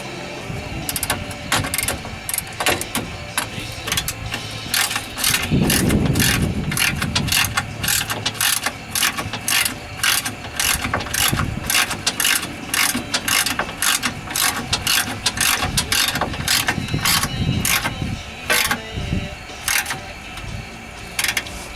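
A ratchet clicks in rapid, steady bursts while tightening the rear control arm bolts on a Ford Windstar, the close, sharp pawl clicks repeating for a long stretch with brief pauses between strokes.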